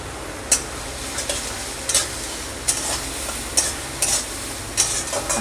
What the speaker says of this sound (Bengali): আমি একটু কাশ্মীরি গুঁড়ো লঙ্কা দেবো এতে,